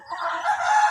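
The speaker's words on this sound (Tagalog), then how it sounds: "Iyang mga manok, oh." Chickens make a brief, close burst of crowing and clucking that lasts under a second, heard alone.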